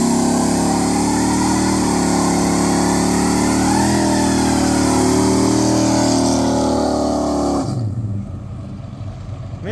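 A car engine at a street car event holds a loud, steady high rev as the clutch slips, then drops off abruptly toward a lower idle near the end.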